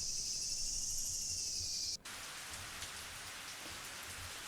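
Heavy rain pours down as a steady, even hiss in the Higurashi video game. A high sustained tone plays over it at first, then cuts off abruptly, leaving the rain alone.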